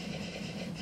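Steady low rumble of a train running in a video game, a continuous mechanical drone with no talk over it.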